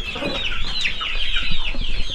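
A native village rooster and hens on a poultry farm cluck and chatter continuously, near and fairly loud, with busy overlapping calls and no talking.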